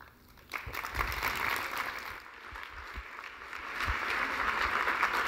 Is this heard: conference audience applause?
yes